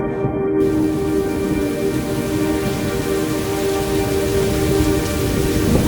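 Heavy rain pours down in a dense, continuous roar of drops hitting surfaces, loud and steady throughout with a low rumbling undertone and no voices.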